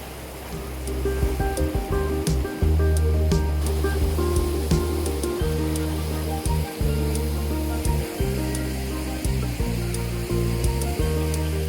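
River water rushes beneath a bridge near a country pub, a steady, loud broadband wash with constant spray and no pauses.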